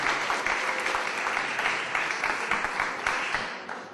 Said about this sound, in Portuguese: eu para já gostava era de lhes dar a ele um grande aplauso